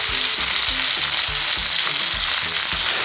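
Steak frying in a pan over high heat on a stovetop gives a steady, loud, close sizzle that hisses without a break the whole time, with no voices over it.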